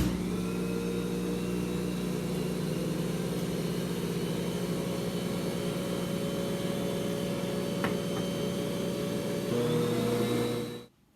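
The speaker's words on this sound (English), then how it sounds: "I mixed all the ingredients on low for about 20 to 30 seconds" An electric mixer runs on low through banana bread batter of flour, baking soda, baking powder, salt and soured milk, giving a steady, even motor whine that cuts off abruptly at the end.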